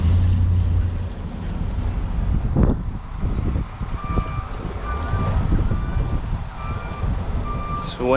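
A truck backing up to park gives regular repeating reversing beeps, moderately loud over wind and rumble, while people talk nearby.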